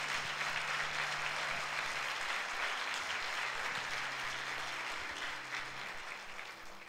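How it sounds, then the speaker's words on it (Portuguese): Sunday church service congregation applauding for Jesus: continuous, fairly distant clapping from many people, steady throughout and tapering slightly at the end. "Então eu acho que você deve dar um aplauso a Jesus."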